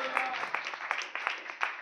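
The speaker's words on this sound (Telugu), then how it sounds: "కొడండి గట్టిగా చప్పట్లు." A church congregation claps loudly, a dense burst of applause with sharp individual hand claps standing out, mixed with voices talking over it.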